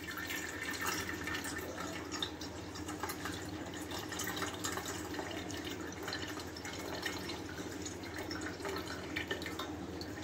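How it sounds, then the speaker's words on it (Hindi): Cooled boiled taro water being poured through a sieve for homemade liquid fertilizer, a steady trickling and dripping stream that runs throughout without speech. "इस तरह एक छन्नी की सहायता से हम इसे छान लेंगे।"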